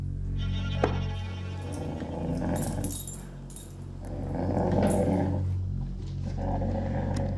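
A dog growls aggressively over its food at mealtime, a sustained low rumbling snarl with rising and falling intensity, close and loud throughout with no talking.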